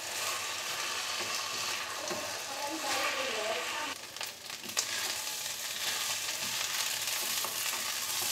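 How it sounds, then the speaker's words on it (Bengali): Rice sautéed with chicken meat in a pot for khichuri, giving a continuous dense sizzle and frying hiss, with occasional stirring scrapes throughout. "এবার এই চালটাকে ওই মাংসটার সাথে সুন্দর করে কষিয়ে নেব।"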